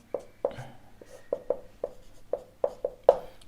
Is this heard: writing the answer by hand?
yes